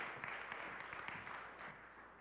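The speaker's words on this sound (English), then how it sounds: "would you guys do another round of applause real quick?" A church audience claps to welcome a speaker, a steady wash of applause from many hands, moderately distant and fairly faint, holding for a couple of seconds before easing off slightly.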